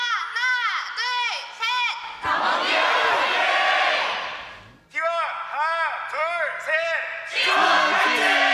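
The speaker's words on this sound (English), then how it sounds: "we have recorded a bunch of fans cheering" Recorded crowd cheering played as the T1 versus DK LCK Finals game begins, loud bursts of roaring fans alternating with several rising and falling shouted calls, filling the whole stretch.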